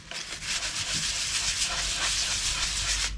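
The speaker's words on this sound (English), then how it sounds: "I'm just going to give this a light sanding and see what happens" Continuous close-up light sanding of a grimy, varnished wooden chair, a steady abrasive scratching hiss with rhythmic back-and-forth strokes and no pauses.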